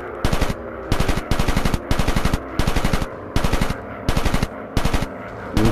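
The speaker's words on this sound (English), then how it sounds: "The machine gun's quite good on this, fully upgraded." A WWI fighter plane's machine gun in the VR game War Planes, firing in rapid rattling bursts about a second long with short gaps between them, loud and close, without speech.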